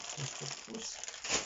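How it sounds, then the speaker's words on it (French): Paper crinkles in a few short, soft rustling bursts close by, with brief faint voice sounds between them. "qu'est-ce qui fait du bruit, ce papier?"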